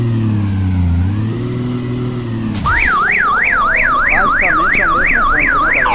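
A heavy Scania 113 truck engine in Euro Truck Simulator 2 with a sound mod drones and revs steadily, then cuts off abruptly and a loud warbling alarm-like electronic tone repeats in fast up-down sweeps.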